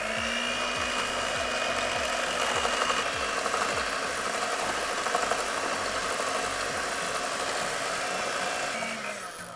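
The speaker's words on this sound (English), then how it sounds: "we're gonna start on low and combine all the ingredients, and then we'll move to medium speed to really fluff up our whipped cream" An electric mixer whips cream with pumpkin spice for a pumpkin pie cheesecake, a continuous close whirring drone with a rhythmic rattle underneath, steady throughout and easing off at the very end.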